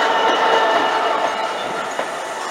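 Class 66 diesel freight train rolling past at a station, a steady loud rumble of wheels and wagons with faint clatter, close by and without voices.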